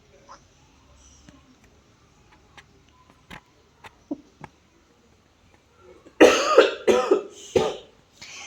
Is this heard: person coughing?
yes